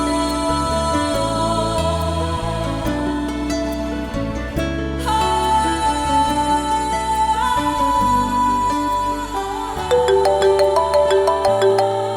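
A phone ringtone plays alone as a continuous melodic tune, loud and steady for about twelve seconds, with no voices over it.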